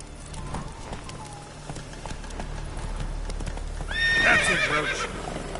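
Roach the horse in Witcher 3 trotting with steady hoof clip-clops, then a loud neigh and whinny near the end, close and clear over a low ambient bed.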